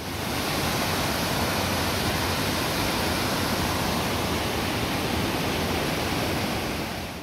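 Water pours steadily over the dam at Bala Generating Station in Muskoka, a loud, continuous rushing roar that holds unbroken from start to finish with no voices.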